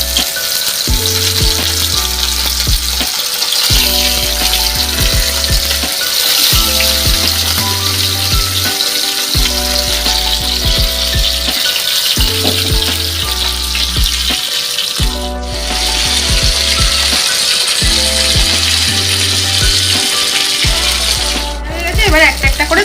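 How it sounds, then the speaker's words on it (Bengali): Fish fries in hot mustard oil, a dense continuous sizzle and crackle heard up close, with occasional clinks and low thumps from handling the pan beneath it. "সর্ষের তেল দিয়ে মাছটা ভাজবো"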